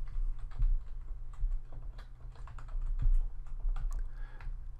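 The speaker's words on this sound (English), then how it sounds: "So I can type my username" Rapid, irregular keystrokes clatter on a computer keyboard as a username is typed at a Windows 10 login prompt, close and clear, with no talking.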